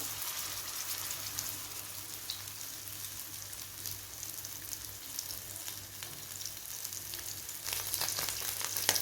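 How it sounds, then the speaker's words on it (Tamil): Marinated emperor fish (vilai meen) shallow-frying in hot oil, a steady close hiss and sizzle running throughout at even loudness, with a few faint pops and a slight swell near the end. "ஆயில் ஓரளவுக்கு நல்லா ஹீட் ஆனதுக்கப்புறமா இப்போ மேக்னேட் பண்ணி வச்சுருந்த ஃபிஷ்ஷை இதில் சேர்த்துக்குவோம்"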